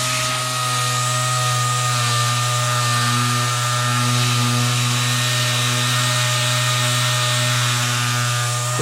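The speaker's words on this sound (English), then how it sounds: "I got me a palm sander right here." A palm sander grinds rust off an old leaf spring for a C-cab truck build, a loud steady buzzing whine with constant abrasive rasp, running continuously and close without pause.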